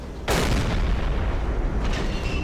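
Heavy deck-gun fire from a U-boat shelling a burning ship in Silent Hunter 3, a loud sudden boom followed by a sustained rumbling roar, with a fainter second report near the end.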